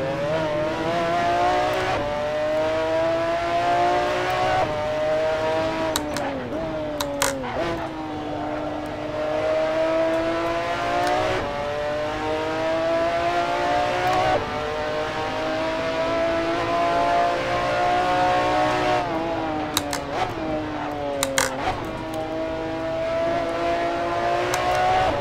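A McLaren F1 GTR race car's engine howls in Assetto Corsa at Brands Hatch, revving up through the gears with repeated shift dips and downshifts, loud and continuous for the whole stretch.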